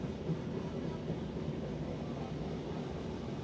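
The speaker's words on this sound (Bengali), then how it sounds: "দেন কিছুক্ষণ পরে দিক দিয়ে ট্রেন যাচ্ছে" A train passing close to a restaurant, a steady low rumbling roar of rolling wheels and carriages that holds evenly at moderate loudness from start to finish.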